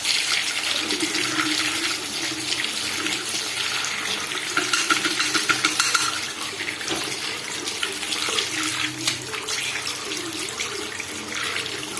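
Water runs steadily from a washbasin tap during cleaning, a continuous close splashing hiss with faint handling sounds and no talk. The tap was being fixed for weak flow.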